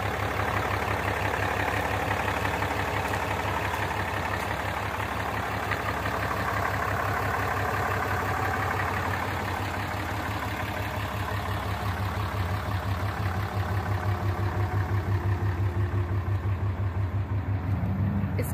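A bright red Ram 2500 pickup with a 6.7 liter Cummins turbo diesel idles nearby, a steady low rumble with a fine rapid pulse running evenly throughout and no talking.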